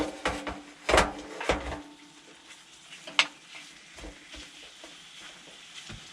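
Garlic, kale and mushrooms sizzle in a pan on a camp stove inside a truck tent, with a soft steady fry broken by clacking stirs and scrapes of a utensil, close and fairly quiet.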